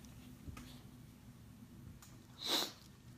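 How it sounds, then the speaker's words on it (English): A single short, breathy nose blow from a person with sinus congestion bursts out near the end, brief and close, after a stretch of quiet room noise. "I'm going to go ahead and blow my nose again."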